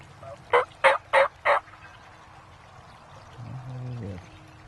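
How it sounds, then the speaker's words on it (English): Four loud, rapid wild turkey gobbles ring out in quick succession, followed by a softer, lower call and quiet outdoor ambience. "And turkeys are coming in from right behind us."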